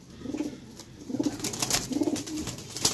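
Teddy golden pigeons coo in soft repeated bursts, close and moderately loud, over a faint background of rustling and other bird sounds.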